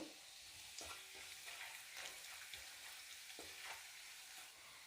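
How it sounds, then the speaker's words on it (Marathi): Garlic and cumin frying in oil over a low gas flame, heard as a quiet, soft sizzle broken by repeated scraping stirs of a spatula, with no voices. "इथे मी कमी गॅसच्या फ्लेमवर लसूण आणि जिरं तेलात चांगलं परतून घेतलेलं आहे"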